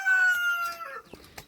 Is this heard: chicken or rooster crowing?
yes